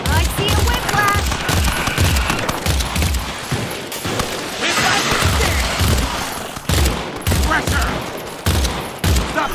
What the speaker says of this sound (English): Stop shooting me, fool!